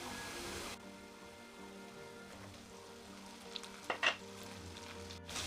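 Onions, tomatoes, green chilies and turmeric frying in a pan, a steady soft sizzle throughout with a few sharper crackles and clinks near the end, no talking.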